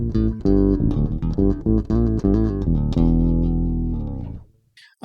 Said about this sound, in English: Next one is the MXR Bass Octave Deluxe.